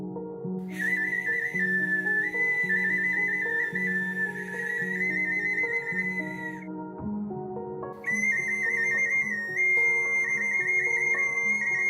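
A shrill bird-shaped clay whistle trills and warbles in two long bursts, bright and continuous, with a brief pause between them over a steady tonal backing.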